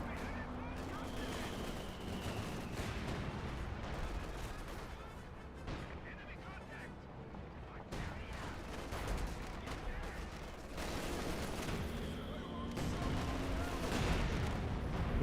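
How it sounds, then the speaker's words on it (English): British officer artillery barrage in Company of Heroes 2, dense rumbling explosions and gunfire rolling continuously at steady loudness, with a voice talking over the battle. "We got some sort of artillery being brought in there, probably officer artillery, British officer artillery."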